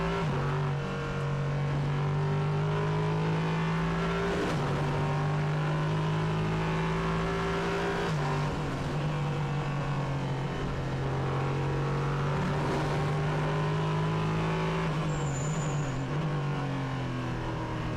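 Nissan 5.6-litre V8 prototype race car engine lapping the Hockenheimring circuit, a deep steady drone with rising and falling revs across gear changes, loud and continuous with no talk.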